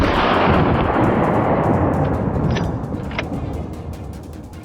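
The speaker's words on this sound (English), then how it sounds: "I pulled the trigger." A single rifle gunshot fired while hunting wild boar: one loud, close blast that opens the clip and rolls off into a long, fading rumble with no talking.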